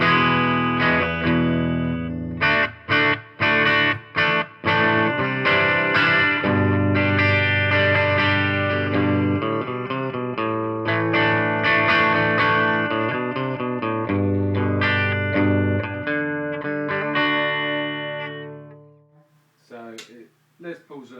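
Gibson Les Paul 50's Tribute electric guitar with P90 pickups, played through a distorted, effects-laden tone: choppy staccato chords at first, then sustained ringing chords and notes, loud and alone, fading out near the end.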